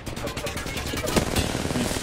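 Rapid video game gunfire in quick repeated bursts, steady and fairly loud throughout, with faint voices partly underneath.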